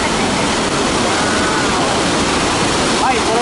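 Loud, roaring water at Iguazu Falls on the Brazilian side, with heavy spray falling nearby like a shower, a dense unbroken rush filling the whole clip with a faint voice near the end.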